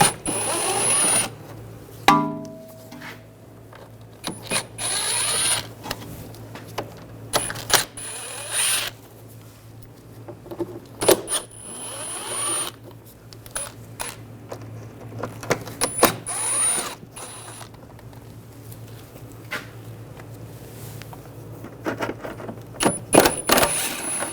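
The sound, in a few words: removing screws with a T25 socket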